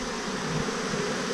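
A single bee buzzes close to a beekeeper taking down swarm traps, a loud, continuous droning hum held through the short moment with no talking.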